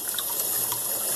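Fermented tomato seeds are rinsed under a running tap, a short burst of steady, close splashing water flow.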